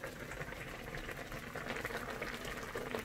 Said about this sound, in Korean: 이렇게 해가지고 한 15분에서 20분 정도만 끓일게요